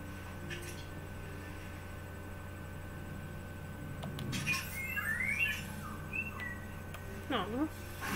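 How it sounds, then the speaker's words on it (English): Birds squawk and chirp in the video game Detroit: Become Human, a few short tweets and calls over a steady game ambience, with a voice talking at points. "I forgot about the birds. I want to activate the birds."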